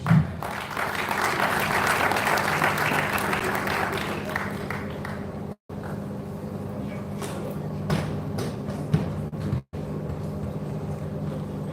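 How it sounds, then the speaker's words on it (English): Audience applause for Pastor Bola at a church conversation event, a broad burst of clapping that is strongest at first and thins out over several seconds, followed by quieter room noise and scattered sounds. "please give this Pastor Bola a round of applause"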